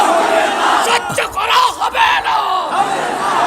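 A large rally crowd roars a loud, massed chant in answer to a religious call, voices swelling and dipping together in a dense continuous wall of yelling close up.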